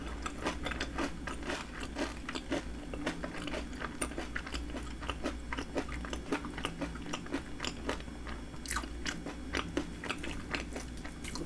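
Close, steady crunching and chewing of salmon inari and fried shrimp dipped in mayonnaise, with a rapid, continuous rhythm of crisp bites and mouth sounds and no talking.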